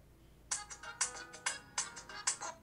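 Short ringtone-like melody played through the small built-in speaker of a Samsung Galaxy Watch 6, bright repeated tinny notes in quick bursts, fairly quiet and alone with no talking.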